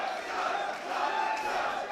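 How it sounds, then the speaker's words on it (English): A wrestling crowd at a Defy match roars and chants for Robbie Eagles during the 2019 Super 8X GP against Cody Chhun, a dense, sustained cheer of many voices filling the hall without letup. "Nice reaction for Robbie Eagles in the crowd"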